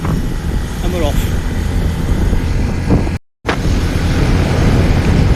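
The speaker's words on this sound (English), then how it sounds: "Bit windy, I know, but hey ho." Heavy wind buffeting roars steadily into the microphone of a motorbike carried along at speed with a pillion passenger on the Ha Giang loop, loud and constant, broken only by one brief dropout near the end.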